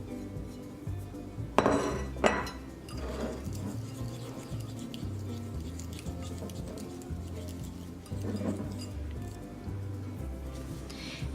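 A spoon stirs lemon zest into a glaze in a bowl for keto lemon blueberry scones, with a few sharp clinks against the bowl near the start and soft, steady scraping and mixing after that.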